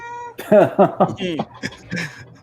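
A house cat gives a drawn-out, wavering meow near the microphone, followed by a few shorter chirping calls, alone and loud.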